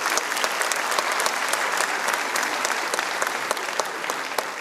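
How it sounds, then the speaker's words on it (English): An audience welcomes the Governor of Odisha at a literary festival award ceremony with loud, dense applause, a steady crackle of many hands with sharper individual claps, continuous throughout. "with a big round of applause from all of you."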